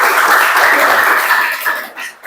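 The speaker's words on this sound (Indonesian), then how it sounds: "tepuk tangan untuk kita semua" Classroom applause from students at an agricultural vocational high school, a dense burst of clapping that fills the clip and thins out toward the end.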